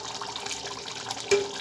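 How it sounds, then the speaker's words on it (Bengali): Lukewarm water is poured into broiler chicken braising in a pot for a Bengali bhuna curry, giving a soft, fairly faint splashing wash with a brief louder gush near the end. "এখন আমি এখানে হালকা গরম পানি অ্যাড করবো"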